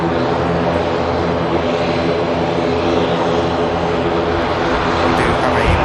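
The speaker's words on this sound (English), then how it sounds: "We do have a Ryanair just on finals now" A Ryanair airliner on final approach to Manchester Airport gives a continuous loud engine drone with a steady low hum, heard close and unbroken with no voices over it.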